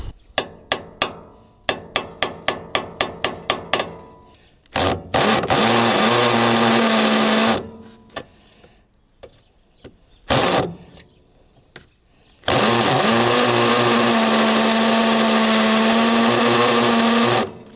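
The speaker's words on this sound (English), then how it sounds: "I was drilling it and nothing was happening" A series of rapid hammer taps, then a power drill whirs in two long loud bursts with a short burst between, separated by quiet pauses.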